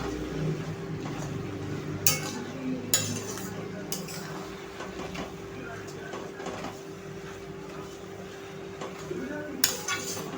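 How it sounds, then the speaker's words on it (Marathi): A spoon stirs green food colouring into bottle gourd halwa in a pan, soft scraping and occasional clinks against the metal, close and steady, under a low background hum. "आपण हा कलर छानपैकी मिक्स करून घेऊया."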